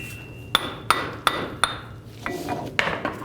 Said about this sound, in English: just hammer it off